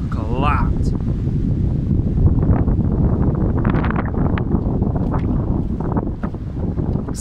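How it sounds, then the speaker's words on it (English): Strong Storm Dennis wind gusts roar into the microphone continuously, loud buffeting rumble with rustling throughout and a brief voice at the start. "Exceptionally windy."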